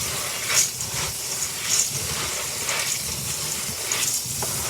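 Water runs over dry beans in a strainer, a soft continuous hiss and gush with a few louder surges, close and steady, with no talk.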